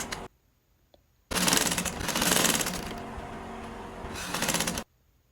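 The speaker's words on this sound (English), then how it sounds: "And I'll sew with a 1/4-inch seam allowance." A sewing machine stitching fabric at a quarter-inch seam allowance for a bag, a continuous mechanical whirring burst lasting about three and a half seconds, starting and stopping abruptly, with brief quiet handling sounds before.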